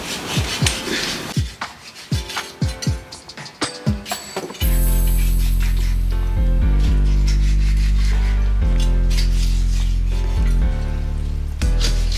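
A knife cuts pieces from a whole roast turkey with a series of quick, rhythmic sawing strokes over about four seconds, then a loud, steady low hum takes over for the rest of the clip.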